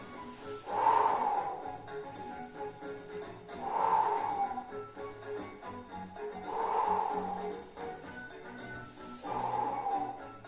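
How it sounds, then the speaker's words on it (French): Slow, steady exhalations during a pilates exercise: four breathy, hissing out-breaths repeat at an even pace, close to the microphone in a quiet room. "Je souffle, je pose, j'inspire."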